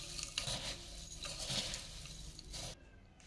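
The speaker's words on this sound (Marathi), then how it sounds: "आता हे व्यवस्थित मिक्स करून घेऊया।" Bhel being stirred with lemon juice in a bowl, a soft, steady patter and scrape of dry puffed-rice mixture being tossed, close and continuous, then stopping abruptly near the end.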